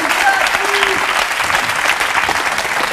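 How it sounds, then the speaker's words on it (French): A crowd applauds someone in a French talk show setting, a dense, continuous burst of clapping with a voice or two faintly mixed in. "on peut l'applaudir"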